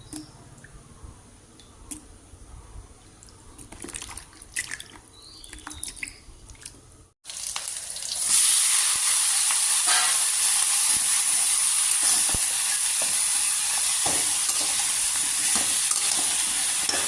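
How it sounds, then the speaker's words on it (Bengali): Tela pitha cakes go into hot oil. Quiet stirring and clatter come first, then a loud, steady frying sizzle with hiss and steam fills the rest. "তেলা পিঠাগুলো ভাজতেছি আজকে।"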